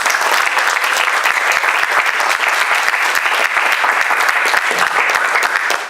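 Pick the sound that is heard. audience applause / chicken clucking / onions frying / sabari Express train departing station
audience applause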